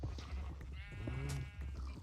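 Sheep in the Minecraft game bleat in overlapping calls above a crowded, steady din of farm animal noise, one long wavering bleat standing out in the middle, with no talk.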